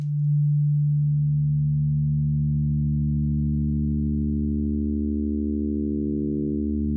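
A smooth, pure tone from a Bitwig Phase-4 synth swells in gently with a slow attack and holds steady, sustained and fairly loud, with no other sounds.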